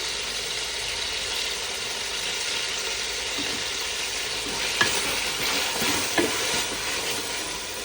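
Tomatoes cook down in a pan for vangibath, a low, constant sizzle with a few faint stirring clinks, heard up close and without talk.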